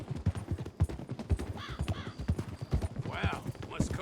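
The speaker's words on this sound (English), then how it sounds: "Wow, let's cover some ground on a horse like that." Horse hooves clip-clop in a fast, regular rhythm during a video game ride, close and clear, with a couple of brief whinnies breaking in partway through.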